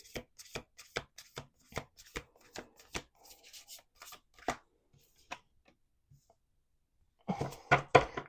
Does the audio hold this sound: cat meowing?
no